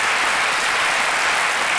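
A TV talk-show studio audience applauds in a brief, steady burst of dense clapping, loud and even throughout, with no talking.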